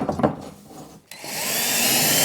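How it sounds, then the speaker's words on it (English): A power drill drives drywall screws into OSB board, a short knock and scrape giving way to a steady rising whir that stays loud and close to the end. "Just a couple of drywall screws to attach it."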